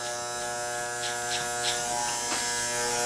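Electric hair clippers buzz steadily at close range while tapering a haircut in a barbershop, a continuous motor hum with slight changes in pitch as the blade moves through the hair.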